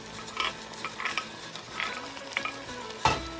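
Jicama strips are tossed into a hot pan for a lumpiang sariwa filling and stirred with a utensil, giving soft intermittent scraping and light sizzle, with a sharper knock near the end.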